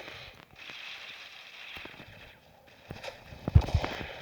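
Gunfire in the mobile shooter Critical Ops, with faint scattered shots early on and then a close, louder burst of several rapid shots near the end.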